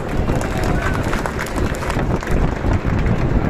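A large gathering at a protest rally in Jaipur breaks into loud, dense clapping, a rough continuous roar of hands with crowd noise mixed in throughout.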